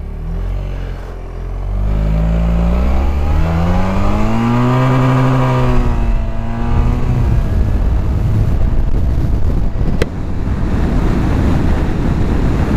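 A Suzuki Burgman 650 scooter, shifted manually, accelerates hard with its engine tone climbing and falling through rising harmonics, then settling into a steady rush of wind noise at speed.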